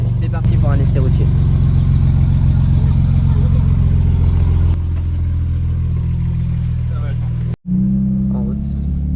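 BMW M3 E46 Cabriolet engine running steadily and loud up close, idling and pulling away as the car sets off on a road test, with a person talking over it and a brief dropout near the end.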